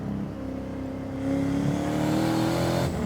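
A 600HP turbocharged BMW E36 drift car running about 10 pounds of boost, its engine droning close by and then climbing in pitch as it revs harder before easing off.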